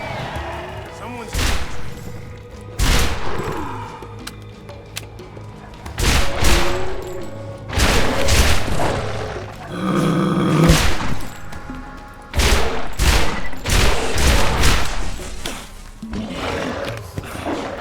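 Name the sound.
gunfire from burst-fire weapons in the video game Borderlands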